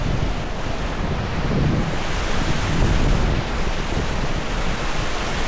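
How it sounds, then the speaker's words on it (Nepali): A small waterfall in Nuwakot, Nepal, pours with a dense, loud, unbroken rushing roar, with some wind buffeting the microphone and no speech. "यो चाहिँ चिलाउने झरना नुवाकोटको चिलाउने झरना एकदमै ब्युटिफुल त्यति ठुलो त छैन"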